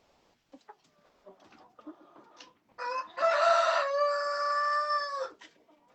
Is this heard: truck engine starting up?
no